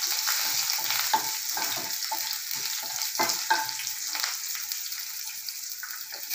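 Curry leaves hit hot oil in a pan for a steady, close sizzle and crackle, punctuated by sharper pops and spatters, with no voices.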